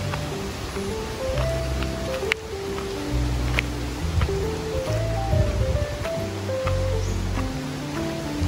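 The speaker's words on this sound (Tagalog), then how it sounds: "Tsaka malakas ang hangin dito." Strong wind gusting across an open farm lot in San Narciso, Quezon, a steady broadband roar from start to finish with a layer of rustling, and a faint tonal line running underneath.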